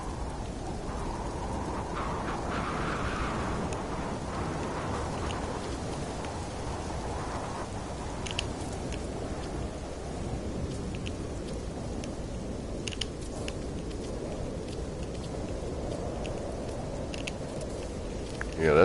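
Steady rainfall in the video game No Man's Sky, a soft, continuous patter heard alone at moderate volume, with a few faint clicks and taps scattered through it.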